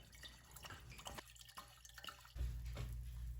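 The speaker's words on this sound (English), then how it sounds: "First, we'll add our wine." Wine for svařák pours into a large pot, a quiet liquid trickle and splash that swells into a fuller, steadier pour toward the end.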